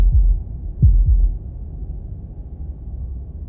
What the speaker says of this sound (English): That was the sound of a heartbeat, followed by another,